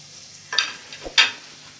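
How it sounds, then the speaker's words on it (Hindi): Finely chopped onions dropped into hot oil in a pan, giving two brief bright sizzling bursts with a soft clunk between them, close and fairly loud. "अब पैन में सबसे पहले मैं लूँगी 3 टेबल स्पून तेल और 2 मीडियम साइज़ की प्याज डाल दिए मैंने इसमें बारीक काट के।"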